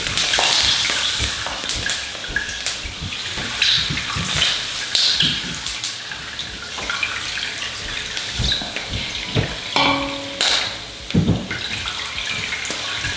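Pork belly deep-frying in very hot oil for crispy Filipino bagnet, a dense, steady sizzle and crackle with scattered louder pops, close and continuous throughout with no talking.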